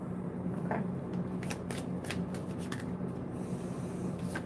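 Close, soft riffling and snapping of a deck of tarot cards being shuffled in several quick bursts, with no talking.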